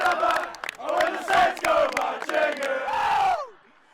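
A home crowd at an Auckland Grammar school rugby match cheers and roars in loud, sustained bursts of massed voices, rising and swelling for about three and a half seconds before dropping away abruptly.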